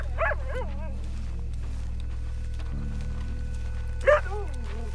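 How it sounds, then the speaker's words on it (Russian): A dog in Red Dead Redemption II barks twice, well apart, each a short sharp yelp over a steady low droning ambience, with a faint whimpery tone between the barks. "А, так это мы на шум собаки идем?"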